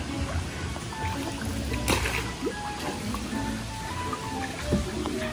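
A strong tidal current flows at low tide around a small boat in shallow water, giving steady nearby gurgling and trickling with occasional splashes and knocks.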